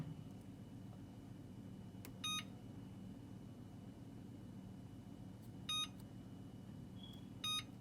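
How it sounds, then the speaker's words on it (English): Kitchen timer being set while baking an angel cake: three short, quiet electronic beep bursts spaced a few seconds apart over a faint room hum. "So here I'm putting the timer and I'll just put it for 15 minutes first."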